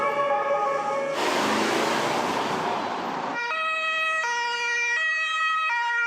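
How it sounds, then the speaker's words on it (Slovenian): Ambulance sirens wail loudly through a city after a deadly tragedy in Graz, a steady two-tone siren broken by a burst of broadband roar, then resuming its alternating high and low pitches. "odmevale so sirene reševalnih vozil"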